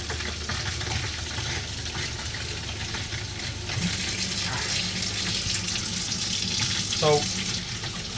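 Hot water runs steadily from the hot tap into the bathroom sink of a 2025 Reflection 311BHS RV, a soft continuous splash under a brief spoken word.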